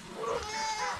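Goats kept as farm animals bleat close by, a wavering, harmonic call that carries through the whole short moment with no one speaking.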